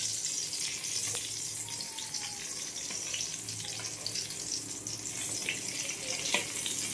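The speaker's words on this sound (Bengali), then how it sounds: "এখানে বেগুন ভাজা হচ্ছে, আর ওই যে পটল আছে, পটল ভাজা হবে" Eggplant and pointed gourd slices frying in oil make a continuous soft hiss and crackle, with faint kitchen clatter in the background and nobody speaking.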